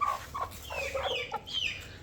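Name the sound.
hen clucking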